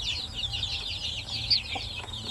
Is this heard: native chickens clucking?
yes